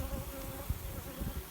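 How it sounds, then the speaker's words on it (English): Steady honey bee buzzing fills the air, a close, dense drone with a few louder passes as individual bees fly near. "So there's a few bees trying to get in and dig around."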